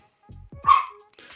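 A dog barks a few times nearby, short sharp barks with a small yip in between, loud and alone in an otherwise quiet indoor room.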